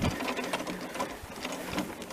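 An Echo WT 1610 walk-behind string trimmer runs with a steady, buzzing mechanical drone, close and fairly loud throughout the short stretch.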